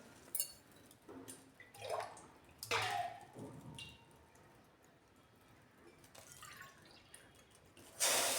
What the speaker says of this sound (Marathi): ह्या वाटीने 7 वाट्या पाणी बघा आपल्याला लागणार आहे